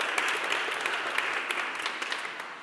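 A lecture audience applauds as the speaker comes to the front for a talk on Darwin and atheism, a continuous moderate patter of many hands with a few sharper claps standing out.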